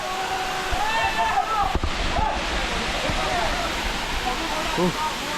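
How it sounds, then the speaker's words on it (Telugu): Steady rushing roar of Katiki waterfalls in Araku, water falling from a great height, fills the scene, with indistinct voices and a few knocks over the constant water noise. "చాలా పై నుంచి పడుతున్నాయి వాటర్."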